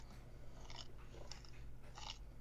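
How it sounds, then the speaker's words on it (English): A creature eating in a horror setting gives wet crunching bites in three short bursts, quiet and close over a constant low hum, with no voices. "It's recording them eating it. Oh, the crunch."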